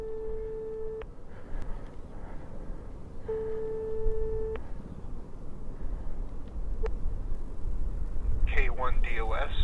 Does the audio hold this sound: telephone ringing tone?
yes